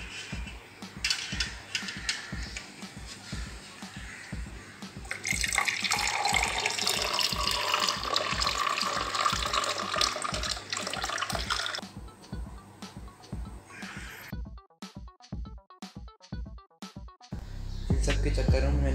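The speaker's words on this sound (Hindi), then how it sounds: "अब पानी को डालना है" Hot water pours steadily into a glass in a home, a continuous splashing rush with rhythmic knocks and clinks underneath, broken by a stretch of sharp ticks before the pour resumes.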